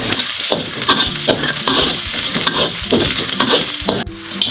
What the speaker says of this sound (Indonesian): tumis bawang merah, bawang putih, dan cabai merah hingga mengeluarkan aroma